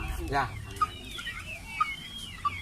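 Pelung chickens clucking in a coop setting, with scattered clucks and short calls rising over a steady background murmur, plus a few brief sharp peaks.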